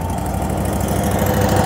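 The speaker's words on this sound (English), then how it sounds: "I'm gonna let the engine idle." The engine of a vacuum truck idles up close, a loud, steady low-frequency rumble with a faint knocking throb running evenly throughout, with no talk.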